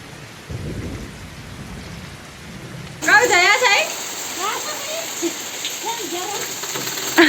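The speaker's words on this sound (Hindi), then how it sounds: "बारिश और भी ज़्यादा तेज़ हो रही है और मोटी मोटी बूंदें पड़ रही है बारिश की" Heavy rain with large, fat drops and thunder makes a steady hissing roar that swells suddenly louder, while people talk over the downpour.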